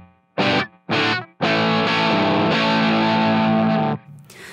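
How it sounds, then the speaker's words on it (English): Glam rock electric guitar through a Marshall Plexi Tremolo 50 amp on its normal channel: two short distorted chord stabs, then a long sustained overdriven chord ringing loud and alone before it cuts off. "I am running through a Marshall Plexi Tremolo 50, and I'm running it through the normal channel"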